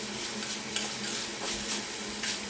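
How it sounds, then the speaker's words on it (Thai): Beef stir-fried in a wok with chilies, kaffir lime leaves, bell pepper and sliced red chili, giving a steady close sizzle with repeated scraping stirs and light clatter throughout. "จากนั้นก็ผัดจนกว่าพริก แล้วก็เครื่องต่างๆ ที่เราใส่ลงไปจะสุกดีครับ"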